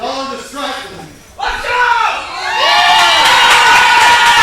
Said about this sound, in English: the capacity sold-out crowd at Stomping Ground Studios showing their support of Joe Furnari and the authentic one, Brian Adams